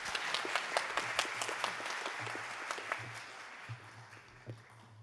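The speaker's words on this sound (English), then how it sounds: "please do give a round of applause to the panelists." Audience applause for the panelists closing a plenary session on financing at a business summit, a steady patter of many hands clapping at moderate distance that thins toward the end, with no voices over it.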